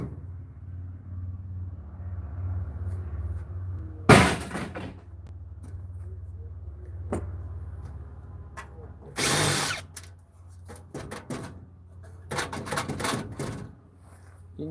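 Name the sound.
power drill driving screws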